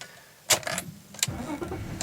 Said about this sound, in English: So just starting the engine there.